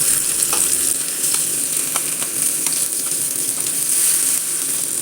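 Raw plantain slices fry in hot oil in a pan, giving a steady, close sizzle dotted with small crackles and pops throughout, with no voices.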